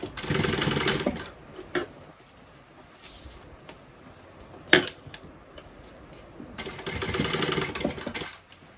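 A sewing machine stitches bag straps for a bucket bag in two close, busy bursts of rapid whirring, separated by a quieter pause with light handling and one sharp click.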